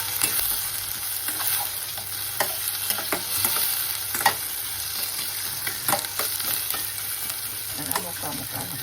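Onion frying in a pan for zunka, an even crackling sizzle punctuated by repeated scraping and tapping strokes of a spatula, loud and close throughout, with no speech.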